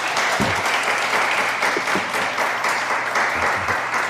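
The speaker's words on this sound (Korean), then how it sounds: "박수" A church congregation applauds steadily and evenly during a sermon, dense and sustained with no speech over it.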